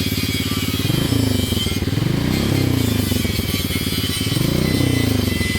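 A motorcycle engine, fitted with a replacement charging regulator, is revved during a charging-voltage test. It sounds loud and close, rising and falling in several throttle sweeps over a steady idle drone, with no voices.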